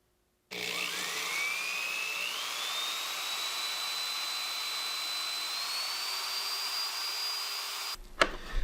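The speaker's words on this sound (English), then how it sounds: "So I only drilled through the plastic piece here" A power drill bores through a plastic fender eliminator piece on a first-generation Suzuki SV motorcycle, a steady, close whine rising in pitch as the bit spins up, running continuously for several seconds before stopping with a brief clatter.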